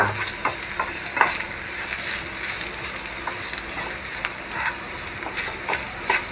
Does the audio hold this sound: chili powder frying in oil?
yes